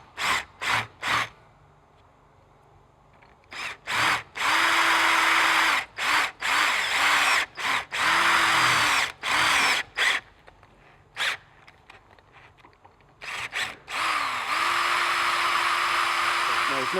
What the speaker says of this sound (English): There's no problem that we've drilled through the plasma